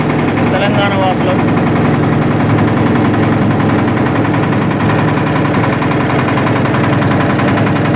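A boat engine drones steadily on the river at Kashi, carrying a crowd of 98 pilgrims, a loud continuous low rumble with voices mixed in throughout.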